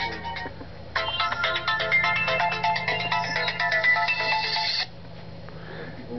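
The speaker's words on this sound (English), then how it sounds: "Hold on a second, I'm getting a phone call." A mobile phone rings with an incoming call in a shop, a bright melodic ringtone repeating for about four seconds over a low steady hum, close and clear with no talk.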